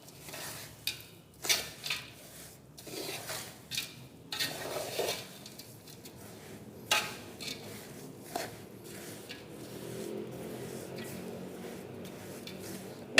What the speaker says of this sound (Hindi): थोड़ा थोड़ा डाल के आप इसको दाल को साथ मिक्स करते जाएं।